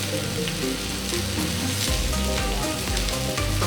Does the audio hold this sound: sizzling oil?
yes